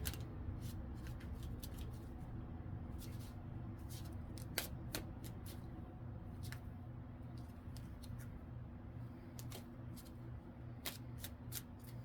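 Slippery tarot cards being shuffled at close range, heard as quiet, irregular flicks and riffles over a low steady background hum.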